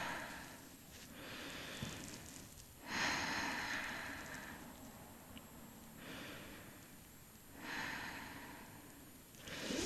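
Slow, deep breaths taken while resting in child's pose during a Pilates session: several long, soft inhale and exhale swells, close and quiet, evenly paced with no talking.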